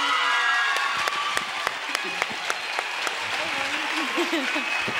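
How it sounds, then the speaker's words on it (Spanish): Applause from a crowd greets the child queen of the 2023 San Roque Royal Fair, sustained clapping with sharp individual claps standing out and a voice talking over it. "Un fuerte aplauso para ella, para nuestra reina."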